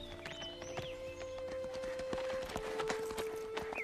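Horse hooves clip-clop along a steep trail, a fairly quick uneven series of sharp knocks close by, with a steady tone and faint rustling underneath.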